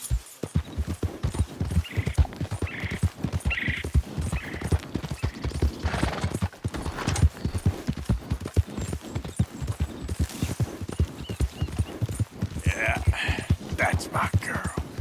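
Hooves clip-clop steadily from a horse in the video game Red Dead Redemption 2, a fast even rhythm that keeps going through the whole stretch, near and loud, with brief whinnies and other game sounds mixed in.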